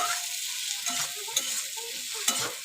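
A spatula stirs a frying mix with green chili in a pan, giving a close, steady sizzle broken by scraping strokes, with no voices.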